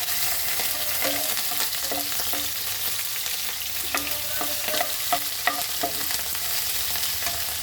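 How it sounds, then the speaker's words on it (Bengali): Green chillies and ginger paste sizzle in hot oil in a pan, a constant frying hiss with several scraping stirs and taps of a spoon. No voices are heard. "এবার দিয়ে দিচ্ছি কাঁচা লঙ্কা আর এই আদা বাটা"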